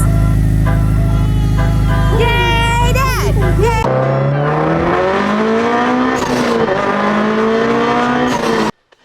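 An old GM/GC/GD-generation Subaru engine turns over and runs loudly with a steady low drone, then cuts to excited children's cheering over road noise.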